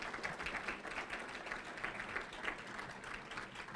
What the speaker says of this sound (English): Come on, give him a hand clap as he comes